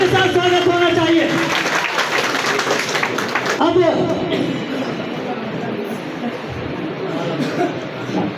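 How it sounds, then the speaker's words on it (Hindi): A rally crowd applauds loudly to welcome an arriving guest at a Nishad Party gathering, with dense clapping and cheering voices early on, then a steady, slightly softer wash of applause and crowd babble that continues to the end. "साथियों जोरदार तालियों के साथ स्वागत होना चाहिए।"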